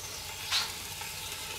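Chunks of meat drop one at a time into hot fat, each landing with a short sharp sizzle burst over a steady low frying hiss, close by with no talking.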